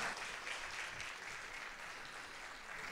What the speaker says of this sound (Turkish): o güzel alkışlarla uğurluyoruz seni